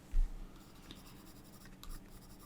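Pencil lead scratching softly across sketchbook paper while sketching a lion's mane, faint continuous strokes with a few light taps, close and quiet, no talking.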